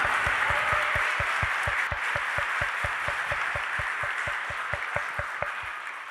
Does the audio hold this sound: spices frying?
no